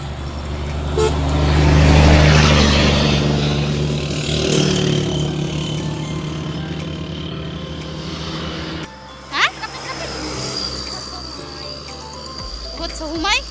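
Motorcycles and other vehicles stream past on a busy road, engines swelling close by and fading, with a horn toot near the end and people chatting throughout.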